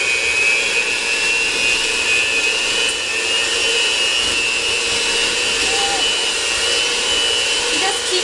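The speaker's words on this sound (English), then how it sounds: "I prefer the mixer because it makes it much quicker." An electric mixer beating cream cheese dough gives off a loud, unbroken motor whine with a high, steady hum, sustained at even intensity throughout.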